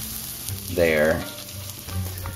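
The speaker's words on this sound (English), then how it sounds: "Seems kind of weird to be boiling cranberries" A cranberry sauce mixture hisses into a hot pot on a stovetop, a loud sizzle that swells and fades over about a second against the background bubbling, and a voice says a single word.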